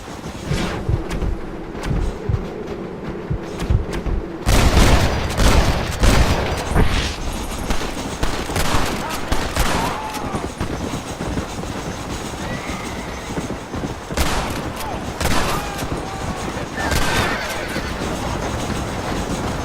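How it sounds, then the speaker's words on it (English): Gunfire in the western video game Red Dead Redemption: loud, dense bursts of shots and impacts crackle throughout a busy shootout, with horse and train-like noise in the background. "Open fire!"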